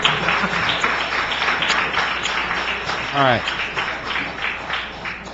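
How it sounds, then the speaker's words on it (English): An audience at a housing and community development committee hearing applauds in a sustained wash of clapping while a voice speaks over it. "we will allow you to applaud speakers, but you have to applaud the committee first"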